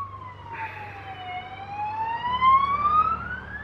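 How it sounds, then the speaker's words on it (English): An ambulance siren wails in a rising and falling sweep, loud and close, over a low engine rumble, with no voices. "Ambulance."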